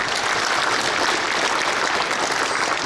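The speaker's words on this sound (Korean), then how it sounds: "격려의 박수를 한번 해주시면 고맙겠습니다" Audience applause of encouragement at a retired pastors' appreciation gathering held in a church, a dense, steady wash of many hands clapping that fills the whole stretch at full strength.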